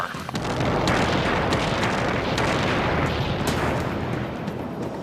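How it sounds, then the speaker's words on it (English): An earth-shattering blast at a rocket fuel factory in the desert town of Henderson, Nevada, heard as a loud, sustained, rumbling roar with crackling bursts that runs unbroken through the clip. "An earth-shattering explosion in a rocket fuel factory rocks this small desert town."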